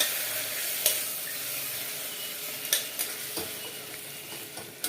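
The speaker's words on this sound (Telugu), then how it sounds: "ఇప్పుడు దీంట్లోకి మనము మటన్ వేసుకుందాము. ఒకసారి కలిపేసుకోండి." Mutton pieces being stirred into fried onions in a hot pan, a steady sizzle with a few sharp scraping clinks of the spoon against the pan, close and without talk.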